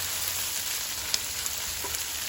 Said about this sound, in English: I'm going to let the onions fry for like about a minute or so